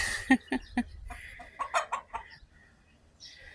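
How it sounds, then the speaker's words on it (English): A few short clucks from chickens and a rooster in quick succession, then a looser cluster of fowl calls that trails off into quiet farmyard ambience. "This rooster thinks he's a chicken, but he's not."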